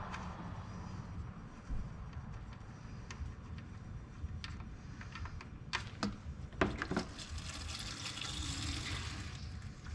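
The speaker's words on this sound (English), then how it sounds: "draining this oil out" Motor oil draining from a 2009 Ford Mustang, a steady liquid trickle and splash that carries on continuously, with a few sharper clinks and knocks in the middle and no talking.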